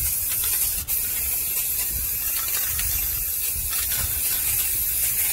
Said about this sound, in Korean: 이제 스프레이를 교체하여 꼼꼼하게 덧칠을 해주세요